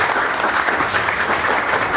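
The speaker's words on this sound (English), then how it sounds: "So now back to the round of applause." Audience applause at a talk on physical literacy: dense, steady clapping from a crowd that fills the whole stretch at an even, loud level with no voices over it.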